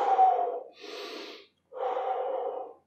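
Someone holding a shoulder stretch during an upper-body arm workout takes slow, audible breaths, three long close exhales and inhales separated by a short pause.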